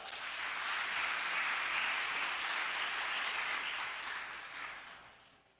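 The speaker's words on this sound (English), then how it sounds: "Everyone, please give yourselves a big round of applause." A crowd at a high school commencement exercise applauds, a broad rush of clapping that swells quickly, holds steady and then tapers off toward the end.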